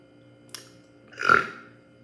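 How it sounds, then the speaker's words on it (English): A single deep, drawn-out burp lasting about half a second, close and fairly loud, preceded by a brief click. "I feel like I'm gonna burp"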